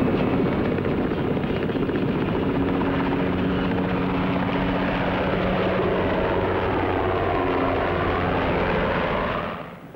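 Naval search and rescue helicopter lifting off from a ship's flight deck at sea, a loud, close, continuous rotor and turbine roar with a steady throbbing drone that fades slightly at the end.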